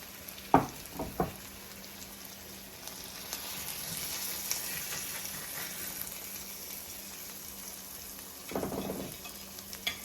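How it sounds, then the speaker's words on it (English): Honey jerk salmon sears in a hot pan with a steady, close sizzle running the whole time, broken by a few sharp clinks and scrapes near the start and again toward the end. "we're gonna let it sear for at least 3 to 5 minutes on each side"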